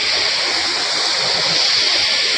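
Water pours steadily over the Kodiveri dam with a loud, continuous rushing roar like a waterfall, heard close and alone with no talking.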